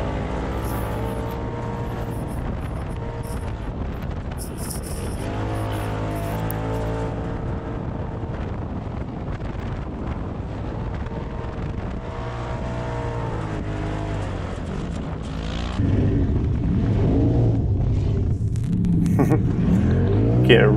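Sand rail car in the Glamis dunes, heard from inside: a steady loud engine drone with shifting revs and gear changes, rising into heavier rumbling acceleration near the end.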